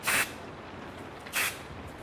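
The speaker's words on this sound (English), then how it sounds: "This is just a bit of finishing spray so we can get her where she needs to be." Finishing hair spray misted from a can during a haircut, two brief soft hissing bursts about a second apart, close and quiet.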